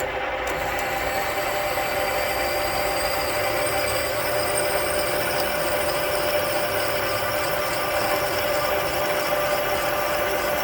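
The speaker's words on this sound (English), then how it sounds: "Going down through there with our piloted core drill." A piloted core drill cutting into a Mopar 360 cylinder head, a loud, steady machine whine with sustained high tonal bands and a grinding undertone, unbroken from start to finish, heard close.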